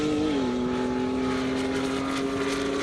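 A Porsche 911 drag car accelerates down an airstrip, a steady loud engine drone whose pitch drops slightly early on, then holds for about three seconds with no talking.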